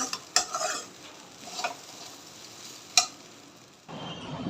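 Leftover fried rice with fresh coriander being stirred in a pan with a spoon after the heat is switched off: a few sharp scrapes and clinks over a soft, steady background, with no talking.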